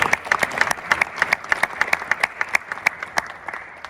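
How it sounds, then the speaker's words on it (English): A small school audience gives a round of applause for a new Martin County high school head football coach, distinct individual claps ringing out in a loose, uneven patter, close and fairly sparse. "So everybody can get Coach Hunter Jenks a round of applause."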